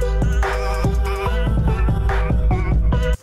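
Music played through FL Studio's Gross Beat is chopped by a half-beat volume gate, so the beat and tones cut in and out in quick, regular stutters across the phrase, loud and upfront.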